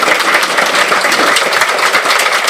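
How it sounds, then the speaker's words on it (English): Loud, dense clapping fills a student fest hall as a department audience applauds an introduced guest, continuous and close for a few seconds with no talk over it. "Big round of applause for Dr."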